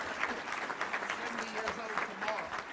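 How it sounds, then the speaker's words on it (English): A Little Rock Touchdown Club luncheon crowd gives a brief round of applause, fairly faint and distant-sounding, with some voices murmuring through the clapping. "So I think that's worth a round of applause right now."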